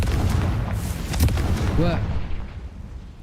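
The Confringo fire-blast spell going off in Hogwarts Legacy, a heavy booming explosion with rumbling low-end impact and crackle, close and loud, while a player speaks over it.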